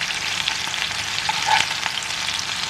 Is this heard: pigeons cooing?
no